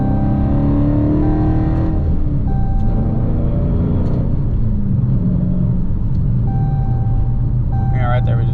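A six-speed Dodge Scat Pack accelerates hard through its lower gears, a loud close engine rumble rising and dropping with each shift while people talk over it inside the car.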